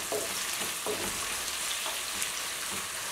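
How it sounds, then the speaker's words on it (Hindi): Tomatoes fry in a pan with garlic, a steady close sizzle with a few soft stirring scrapes and no voices. "अब हम इसमें टमाटर डालेंगे और इसे एक मिनट तक इस तरह फ्राई कर लेंगे।"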